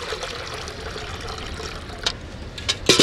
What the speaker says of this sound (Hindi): तो अब हम भगोने में डाल देंगे पानी।